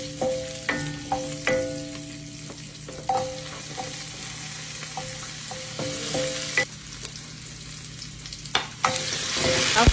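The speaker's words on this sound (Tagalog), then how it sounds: "Maglagay lang po tayo ng butter at igisa ang sibuyas at saka yung garlic" Onion and garlic sautéing in butter for kari-kari, a steady close sizzle broken by repeated scraping and clinking stirs of a utensil against the pan.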